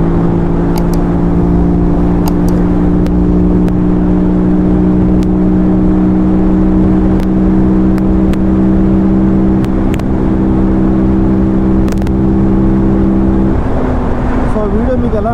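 An Apache 310rr motorcycle fitted with a K&N air filter runs close by with a loud, steady, droning engine note. The tone holds constant, then shifts slightly near the end.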